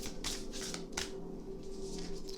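Tarot cards are shuffled by hand, giving quick papery riffles and slaps in several bursts, close and quiet.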